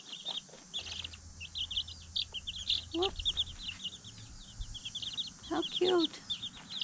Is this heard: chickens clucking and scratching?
yes